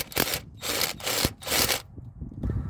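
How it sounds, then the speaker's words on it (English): Spark plug being loosened from a 2012 Toyota 4Runner engine, rhythmic scraping ratchet strokes repeating about four times, close and fairly loud with no talking. "Now we're going to shoot for the spark plug."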